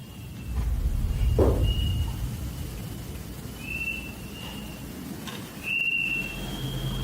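A thin, steady whistle of wind drifts in and out inside a church over a low rumbling background, with a brief thump partway through.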